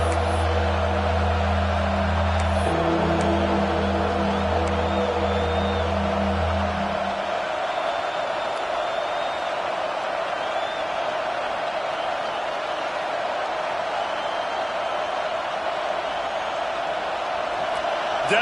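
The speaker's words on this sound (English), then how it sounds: "Decibels rising as the crowd gets behind this defense on 3rd down" A football stadium crowd roars on a third-down defensive play, a dense, sustained wall of cheering. Low droning tones sit under the roar at first, then fade, leaving the crowd noise alone.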